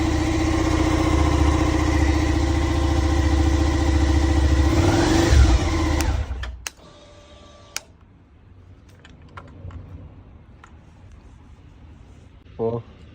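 A Suzuki SV650 motorcycle engine runs steadily and loudly for several seconds, holding a rough mid-pitched idle, then cuts off abruptly, leaving quiet clicks and a brief clatter.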